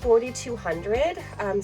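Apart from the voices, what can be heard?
No everyday noise stands out behind the speech.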